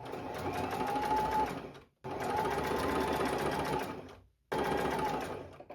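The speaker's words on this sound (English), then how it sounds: "we're going to sew them all the way up until the side seam here, and then we're going to stop" A sewing machine stitches dress seams up to the side seam in three continuous runs of steady, rapid whirring, each broken by a brief pause, heard close and alone.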